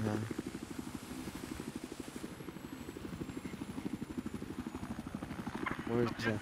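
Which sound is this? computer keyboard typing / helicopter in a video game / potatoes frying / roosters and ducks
helicopter in a video game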